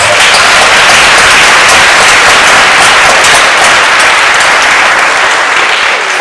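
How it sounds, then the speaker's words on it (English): Loud, dense applause from parents, faculty and students at an elementary school board meeting, filling the room for student performers, continuous and close without talk. "If we could give them all another round of applause"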